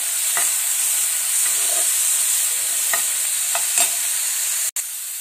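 Rice frying in a pan with tomato, ground coriander and garam masala over a medium flame, a steady close sizzle with occasional scraping stirs of the spoon and one brief sharp knock near the end.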